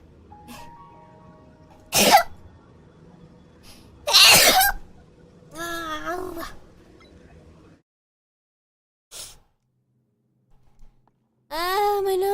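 A woman with a stuffy nose gives two loud, close sneezes a couple of seconds apart, then speaks briefly in a bright voice, falls silent, and talks again at the end.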